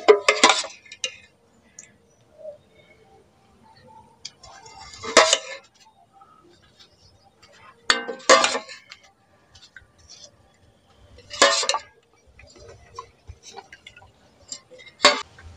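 Clay khuri cups for red kheer doi clink and knock on a surface as milk is set in them, a few separate sharp clusters of hard taps spaced several seconds apart with quiet between.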